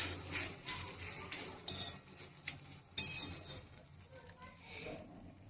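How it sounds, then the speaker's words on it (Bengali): Egg-dipped bread toast fries in a kadai with a soft sizzle, overlaid by repeated scraping and clinking of a spatula against the pan, fairly quiet and close. "সাইডের যে ডিমটা আছে এটাও আমি এরকম ভাবে ভেজে নিচ্ছি।"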